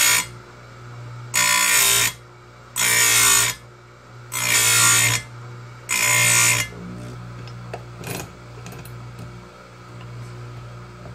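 An Oregon 410-120 grinder sharpens a chainsaw chain in four loud, even bursts of high grinding whine with short pauses between, followed by faint clicks over a steady motor hum.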